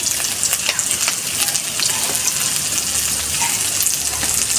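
Elephant foot yam frying in a pan with Kashmiri chilli powder, hot chilli powder, turmeric and salt, giving a steady, loud crackling sizzle with occasional stirring scrapes throughout, no voices.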